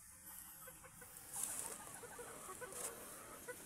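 A white kelso chicken clucks softly a few times at a distance, over faint rustling and background noise.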